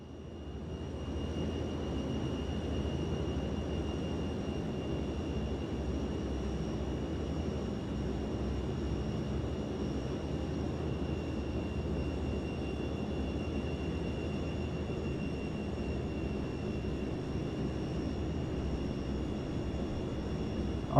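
Inibuilds YS-11 twin-turboprop airliner engines at takeoff in MSFS 2024, a steady, loud broadband roar with a constant high whine that holds throughout with no talk.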